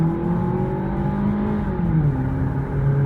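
A revived junked car's engine revs and roars at close range, its pitch sliding up and down in a sustained, throaty drone with no voices over it.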